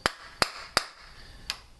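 Sharp, separate taps of a wood block driving a brass inlet fuel fitting into a Harley Keihin carburetor body, three quick strikes followed by a pause and one more, close and crisp, with no other sound.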